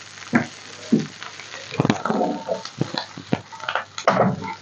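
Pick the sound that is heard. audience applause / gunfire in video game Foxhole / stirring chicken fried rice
stirring chicken fried rice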